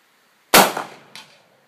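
A single sharp gunshot crack with a decaying tail, followed about half a second later by a fainter metallic ting as the bullet strikes metal.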